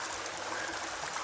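A 50 to 60 foot waterfall below a cliff in rhododendron-covered woodland gives off a steady broadband rush of falling water, constant and even, heard from a distance without voices.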